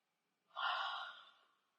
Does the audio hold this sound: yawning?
yes